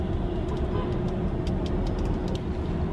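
A city bus rumbles along a road in Washington, D.C., a steady low engine and road drone heard from a nearby vehicle, with faint clicks over the constant rumble.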